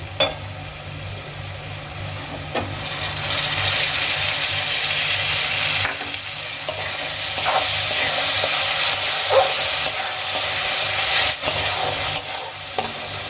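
Mashed tomatoes fry and sizzle with onions and Kashmiri chili powder in a pan for a restaurant-style tomato bharta. A steady, close hiss runs throughout, broken by occasional scrapes and stirs.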